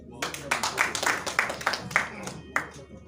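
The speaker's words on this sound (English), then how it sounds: "A round of applause for me." A small group claps in a quick, uneven patter for a few seconds, close by, with a voice murmuring underneath.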